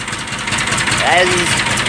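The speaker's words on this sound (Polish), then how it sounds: "No i jak widać Perkins zapalił bez świecy przy minus 7" A Perkins diesel engine on a tractor, just started in minus 7 cold without a glow plug, runs with a steady close chugging idle while someone talks over it.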